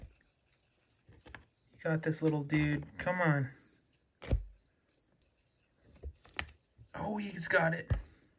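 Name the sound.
feeder crickets chirping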